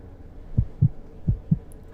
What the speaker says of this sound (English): Why they gotta do the little heartbeat sound?